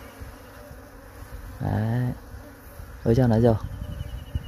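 Honey bees being caught from inside an electric pole make a steady close buzz, with two louder droning swells, while a person speaks in Vietnamese.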